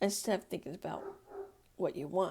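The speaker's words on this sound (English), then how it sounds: "Sorry, if you guys hear that, that's a dog barking." A Great Dane barks indoors, brief deep woofs that sit faintly beneath a person talking steadily in the foreground.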